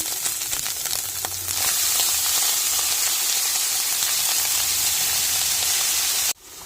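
Karmishak fish roe fries in a pan with a continuous, close crackling sizzle that grows a little louder after the first second or so, then drops off sharply near the end.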